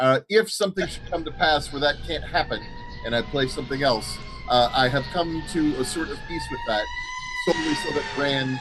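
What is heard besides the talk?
sirens in the background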